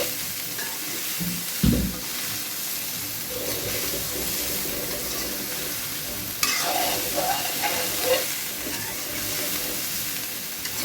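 Soybean chunks fry in hot oil with a steady close sizzle, broken by a few louder clatters and stirring scrapes in the pan.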